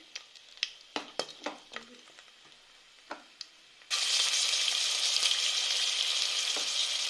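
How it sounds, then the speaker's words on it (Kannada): Ginger garlic paste hits hot fat in a pan while cooking ghee rice: a few sharp clinks and taps first, then a sudden loud, steady sizzle of frying that continues to the end, close and without talk. "ಶುಂಠಿ ಬೆಳ್ಳುಳ್ಳಿ ಪೇಸ್ಟು ಹಾಕ್ಕೊಳ್ತಾ ಇದ್ದೀನಿ"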